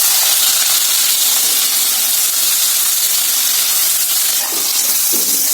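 Onion added to hot oil with mustard seeds and asafoetida for sambar sizzles as a loud, steady, close hiss throughout, with no talking.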